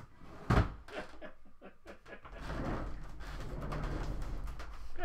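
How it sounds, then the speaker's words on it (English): An envelope drawer shuts with a sharp, close thud near the start, followed by faint rustling and a low room hum. "I'll close it. This is my envelope drawer."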